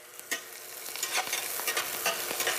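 Green onion whites sizzle and crackle in a hot pan as they are stir-fried, a steady close hiss with small pops and stirring scrapes throughout.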